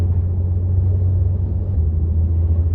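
An Audi S4 quattro on winter tyres climbing a steep road on Jeju Island gives a steady, loud low engine rumble and road drone from inside the cabin, with no talking.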